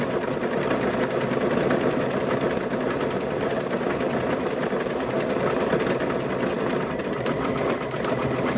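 A sewing machine stitches fabric for a stuffed bear's nose, a loud, continuous rapid mechanical whir up close that runs evenly throughout.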